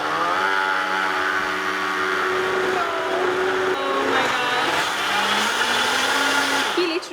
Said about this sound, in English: Turn on the blender. We have the smoothie setting and we press play.